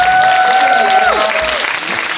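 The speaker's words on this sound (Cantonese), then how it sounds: "俾掌聲熱吧！" An audience at a Stephen Chow film roadshow applauds in a dense, loud wash while a voice and a high whistle-like tone ring out over the clapping.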